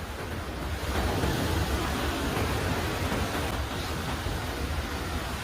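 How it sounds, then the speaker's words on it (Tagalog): A dense, continuous roar of surf at rising high tide on a Philippine shore fills the scene, strengthening waves rushing without pause and blended with wind noise buffeting the microphone. "lumalakas yung alon"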